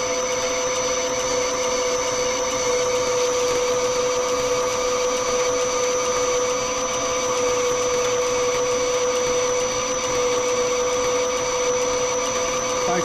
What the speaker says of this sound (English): And he'll finish parting it off.